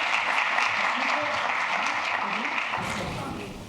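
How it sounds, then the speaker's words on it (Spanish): Audience applause greeting a speaker at a talk on artificial intelligence, a steady wash of clapping from a crowd that fades slightly toward the end, with a voice speaking over it. "La bienvenida, un aplauso aquí."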